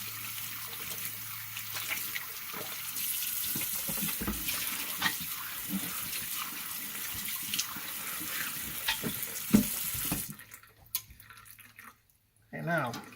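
Tap water runs over a cutting board while fish is filleted, a close, steady splashing and trickling with small knocks and drips, then the flow cuts off near the end.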